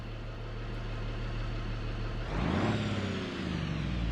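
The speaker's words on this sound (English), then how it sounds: "The idling sound is so sexy." A truck engine idles in a video game with a steady low rumble. Partway through it shifts to a louder rising rev, then settles back down. No one speaks over it.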